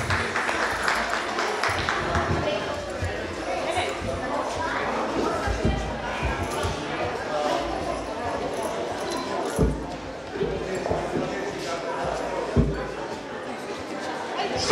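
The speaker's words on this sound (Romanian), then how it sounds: "vă rog să-i aplaudați." An audience applauds young carol singers at a traditional customs festival, with scattered clapping and crowd chatter under a presenter's amplified voice in a reverberant hall.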